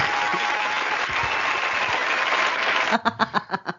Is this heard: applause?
yes